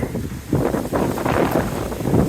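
Gusty mountain wind on the Appalachian Trail buffets and rumbles against the microphone in uneven surges, loud and close, with no voices.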